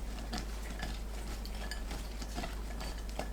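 Green garlic being tossed with mirin in a bowl, soft wet stirring and light clinks of utensil against the dish in a few irregular strokes, fairly quiet and close, with a steady low hum underneath.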